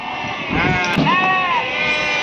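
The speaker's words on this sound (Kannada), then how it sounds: "ನಲ್ವತ್ತು ಕುರಿ ಇಪ್ಪತ್ತು ಮರಿ" Sheep bleat at the weekly Mudhol sheep market, one loud nearby bleat rising and falling over a dense crowd murmur, with other animals and voices mixed in the busy background.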